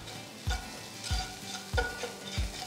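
Onions frying in a pan with turmeric and salt, a soft continuous sizzle broken by four evenly spaced scraping stirs of a spoon, close and moderately quiet with no talk.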